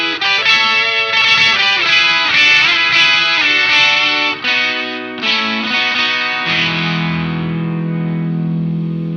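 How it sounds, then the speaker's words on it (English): Electric guitar played through a 1989 distortion pedal into a Keeley Octa Psi octave fuzz, thick distorted chords and notes ringing loud and sustained, then one held note fading out at the end. "if I go over to my pedal board here and activate like my 1989 distortion"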